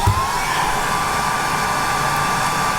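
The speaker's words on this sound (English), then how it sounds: "Let's get the hairdryer back on." A hair dryer runs on a VTOMAN FlashSpeed PRO 3600 portable power station, a loud, steady whooshing blower roar with a constant whine, holding unchanged throughout.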